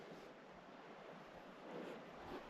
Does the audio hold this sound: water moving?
yes